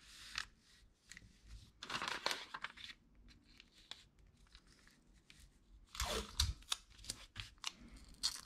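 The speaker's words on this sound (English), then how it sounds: "Now tear up some scrap paper" Scrap paper being torn by hand for a craft collage, giving several short crisp ripping bursts separated by quieter rustling and handling noise, close and fairly soft, with no voices.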